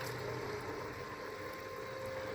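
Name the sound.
raft bilge pump running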